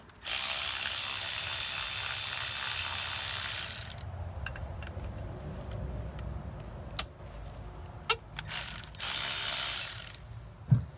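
A ratchet loosening brake bolts on a Ford Transit, fast continuous clicking for about four seconds, then quieter scattered clicks and short bursts of ratcheting, close and alone.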